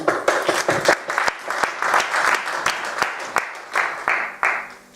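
A church congregation bursts into steady applause, many hands clapping close and loud for several seconds in an even, lively patter before easing off.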